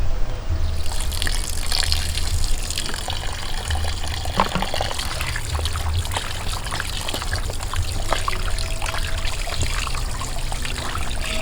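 Tap water runs steadily over raw pork being washed outdoors, a continuous close splashing trickle with a low hum underneath and no clear speech.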